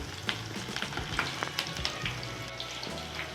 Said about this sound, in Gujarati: હવે આપણે મરચાં તળાઈ ગયા છે